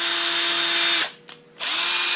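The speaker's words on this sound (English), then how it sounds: "I'm just taking my cordless drill for 1032 tap and chasing each one of these holes out" A cordless drill spins a 10-32 tap to chase out freshly tapped, deburred holes in a boring bar holder for a BXA quick-change tool post, whining steadily and loudly, dropping out briefly mid-clip, then revving back up.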